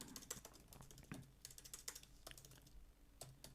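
Quiet, close typing on a computer keyboard: irregular bursts of light key clicks with short pauses between them.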